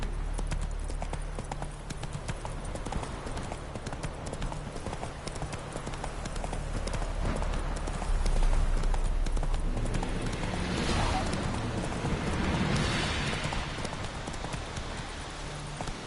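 Horse hooves clip-clop in a quick, continuous galloping rhythm across a Witcher 3 landscape, close and steady, with a swell of wind and ambient noise midway and no voice.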